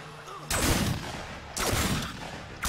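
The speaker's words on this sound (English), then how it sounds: "Let's just use the shotgun in this instance." Shotgun blasts in the video game Fragmented, three loud booming shots about a second apart, each with a short rumbling tail.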